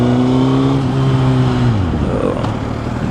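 A 1000cc liter-bike motorcycle engine held at a steady high rev, then the pitch drops away as the throttle closes, loud and close with no talk.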